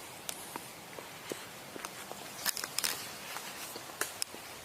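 Soft, scattered footsteps move outside a tent at night, faint irregular crunching steps with a few sharper cracks, distant and uneven in rhythm.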